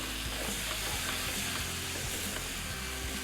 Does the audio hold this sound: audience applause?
no